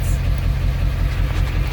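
A Ford Super Duty with a 7.3L engine running just after its first start in almost a year, a loud, steady low idle rumble that stays close and even for the whole short stretch.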